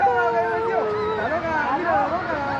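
Puppies at a street pet fair in Havana produce continuous overlapping high whines, howls and yips, several wavering cries at once, loud and close throughout.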